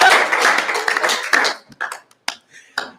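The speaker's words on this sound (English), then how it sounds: "Big round of applause." An audience breaks into applause, a dense burst of clapping for about a second and a half that trails off into a few scattered last claps.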